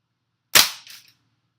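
A WE Apache MP5 gas blowback airsoft gun fires a single sharp, loud crack at close range, followed by a brief softer clack of the cycling bolt, with silence before and after.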